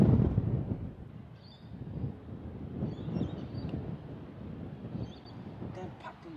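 Strong wind gusts across a golf course, rumbling and buffeting the microphone in uneven surges at moderate loudness, with no other clear sound on top.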